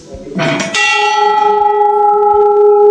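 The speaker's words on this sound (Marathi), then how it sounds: "हा मंदिरातील विशाल असा घंटा" A large temple bell is struck once with a loud metallic clang, then rings on with a long, steady humming resonance that slowly fades.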